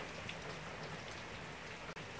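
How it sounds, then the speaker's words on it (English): Rain falling in Matabeleland, Zimbabwe, a steady wash of drops on surfaces, fairly soft and unbroken apart from one tiny gap near the end. "some much-needed rain here in Matabele land."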